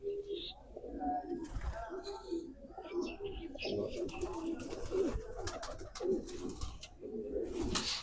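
Black-faced pigeons coo in soft, repeated throaty phrases close by, with someone talking over them throughout.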